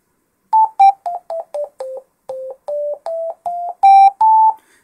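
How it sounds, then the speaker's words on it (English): A homemade penny organ plays a run of short electronic tones that step down then up in pitch, about a dozen separate beeps in brisk rhythm, close and clear, ending on a sustained A at 880 hertz. "Yeah, that's now A, 880 hertz."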